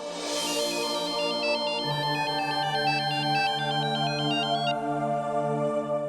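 A telephone rings during a home scene in an Indian drama series, a repeating electronic ringtone warbling loud and steady for several seconds with a sustained musical tone beneath, no voices.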